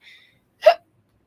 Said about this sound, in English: Sorry, it was a hiccup up.